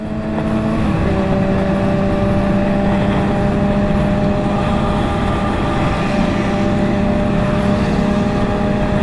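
Kawasaki motorcycles including Z250, Ninja 250 and Z800 models riding in convoy near Sepang circuit, Glenmarie: a loud, continuous blend of engine drone with steady tonal exhaust notes, close and unbroken throughout, no voices.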